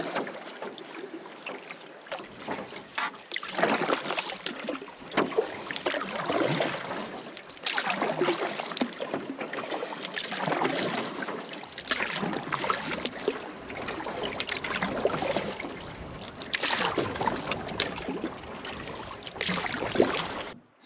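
A canoe is paddled across choppy lake water in the Boundary Waters wilderness. Rhythmic paddle strokes and water splashes repeat steadily, close by, with light wind buffeting the microphone.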